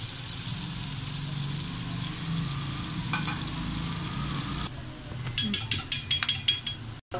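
Golden-brown onions frying with garam masala in a pan for aloo gosht, a steady sizzle that drops away before a run of quick metallic scrapes and clinks of stirring, with a voice talking over it.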